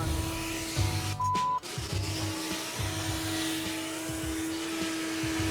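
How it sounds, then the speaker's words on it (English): A vacuum cleaner runs steadily nearby in a shop where an old vehicle is being worked on, giving a continuous whining drone with a brief louder surge partway through. "You got a vacuum cleaner?"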